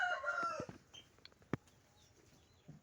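An Aseel rooster crows once, close by and fairly clear, then quiet farmyard background follows with a couple of faint small knocks.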